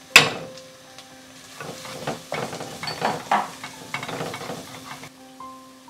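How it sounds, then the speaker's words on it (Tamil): Golden-fried onions with chili powder are stirred in a pan for a vegetable salna, giving a soft sizzle under repeated scraping strokes of a spoon against the metal, starting with a sharp clank and followed by irregular stirring. "வெங்காயம் நல்லா இந்த மாதிரி பொன் நிறமாக வதங்கினதுக்கப்புறமா மிளகாத்தூள் போட்டுக்கோங்க."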